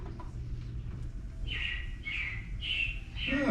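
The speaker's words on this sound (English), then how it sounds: "it looks like the Robins are getting ready to celebrate Valentine's Day today" Robins chirp as a sound effect in a show, four bright, close, evenly spaced calls over a low background hum in the second half.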